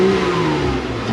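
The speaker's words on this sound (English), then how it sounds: "This thing does have a pretty nice exhaust on it." Modified Jeep Wrangler JK with an aftermarket exhaust revving, a brief steady rumble heard up close from inside the vehicle with a faint whir over it.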